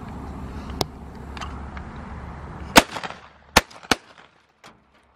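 Shots fired at thrown targets outdoors: a few sharp, loud reports spaced irregularly, each trailing a short echo, with quieter rustling and handling sounds between them.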